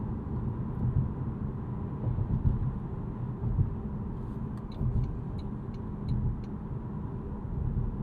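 A 2026 Toyota Camry SE hybrid sedan cruises on an evening commute, giving off a soft, steady road and engine hum with faint rumble and a few light clicks near the end.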